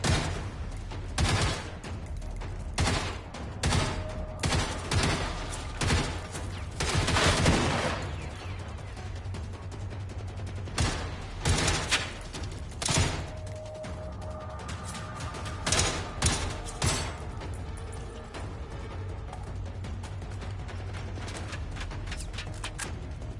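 Gunfire in the Generation Zero video game, with repeated bursts of automatic fire and sharp single shots spread across the scene, some loud and close, others softer, over a steady low background rumble.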